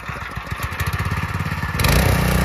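Engine of a small tractor used for ploughing runs with a rapid, chugging single-cylinder beat, heard close and loud, rising to a heavier, fuller roar toward the end.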